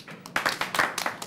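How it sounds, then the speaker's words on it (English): A handful of audience members at a community forum on disability issues clap hands, a short cluster of scattered, uneven claps at moderate loudness. "maybe with a clap of hands, how many people are here from the visually impaired blind community?"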